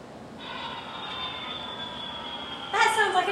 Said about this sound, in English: that was an airplane sound